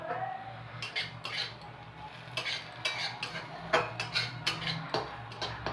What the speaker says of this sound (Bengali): যেহেতু ঘি দিয়ে ভাজছি, তো সবসময় আমাদের এগুলোকে ভালো করে নাড়তে থাকতে হবে